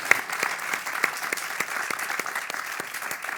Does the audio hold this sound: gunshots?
no